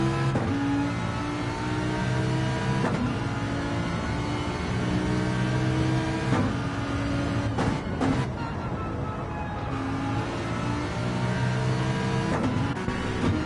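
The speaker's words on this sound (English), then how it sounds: "Let's see how the Lamborghini sounds in comparison for just a couple corners." A Lamborghini race car engine in the Gran Turismo racing game drones and revs through corners, with a steady high whine and repeated shifts and lifts, loud and continuous.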